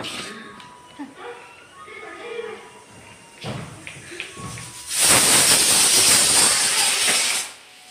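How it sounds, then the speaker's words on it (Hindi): A loud, sustained hissing whistle of a pressure cooker bursts in midway and holds for a few seconds, after quieter clattering household sounds. "कुकर सीटी मार दी"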